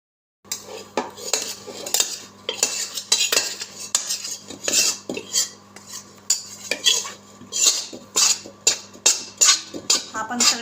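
A spoon scrapes and clinks steadily against a pan while roasted cashews, almonds, cardamom powder and edible gum are mixed into flour for fenugreek ladoo, with rhythmic metallic taps and no talk.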